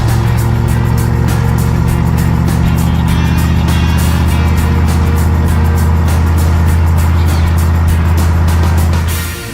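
A car engine with a vacuum leak runs rough at idle, its steady low drone loud and close throughout with an uneven, slightly wavering tone.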